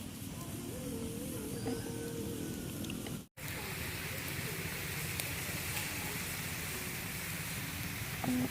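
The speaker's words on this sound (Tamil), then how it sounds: "அப்படியே நெருப்புல போட்டு நம்ம மூங்கில வாட்ட போறோங்க" A wood fire burns outdoors in a village cooking setting, with bamboo set over the flames to roast. It gives a steady, close crackling hiss that runs throughout, broken only by a split-second dropout.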